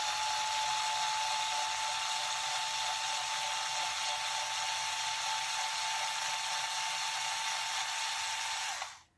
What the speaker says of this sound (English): I'm just going to take my little power tool here, set it in reverse